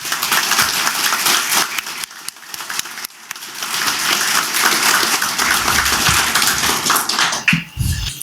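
A crowd at a tribute event for the musician Pinto do Acordeon claps in sustained, dense applause that holds steady for several seconds, loud and close with no talk over it.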